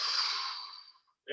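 One long, airy exhale during a chair yoga session, close and soft, fading out over about a second, then a brief new breath sound at the end.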